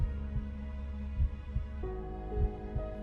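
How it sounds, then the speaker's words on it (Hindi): A quick, regular heartbeat thumps steadily at low pitch beneath a sustained hum, with a faint tone rising partway through. "तुम्हारी धड़कन बहुत तेज है"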